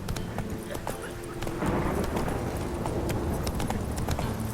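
Roach the horse trots in The Witcher 3 game, its hooves clip-clopping in a steady, fairly close rhythm over a continuous background ambience.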